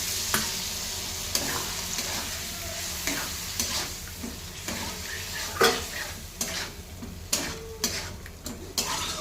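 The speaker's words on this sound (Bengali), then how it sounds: "তো এটাকে বাদাম আর পোস্ত বাটা দিয়ে এখন একটু কষাবো।" Eggplant pieces are stir-fried in a pan with ground nut and poppy seed paste, a soft steady sizzle broken by repeated scraping and clinking of a spatula against the pan, with no talking.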